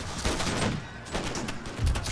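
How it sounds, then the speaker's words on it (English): Pistol volley fired by filibusters during a battle in the strategy game Empire, heard as bursts of crackling gunfire with deep thumps near the start and again near the end of a brief, dense battle din. "Oh, the filibusters fire their pistols"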